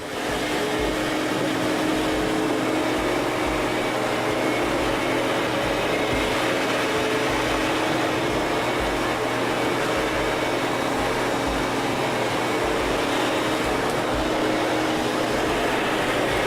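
A SIRENA water-based dust mite vacuum runs steadily over carpet, its loud continuous motor whine and airflow roar holding even throughout with faint rhythmic low thumps from passes.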